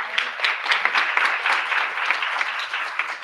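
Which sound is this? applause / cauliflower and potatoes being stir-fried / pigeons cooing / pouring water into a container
applause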